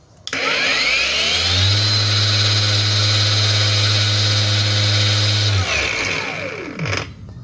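A Kyoal cordless angle grinder with an INR battery runs at speed 2, a loud, close motor whine that spins up quickly, holds steady for about five seconds, then winds down.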